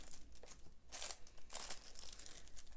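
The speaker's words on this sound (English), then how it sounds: "press down, and peel right off" A die-cut paper piece being peeled away after being pressed down for card making, with a few soft crinkling rips and papery rustles, close and fairly quiet.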